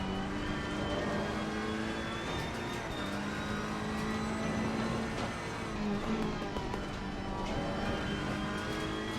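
A race car engine in Assetto Corsa Competizione, held in third gear after a downshift, drones loudly and steadily with a rising, harmonic-rich whine and no talk over it.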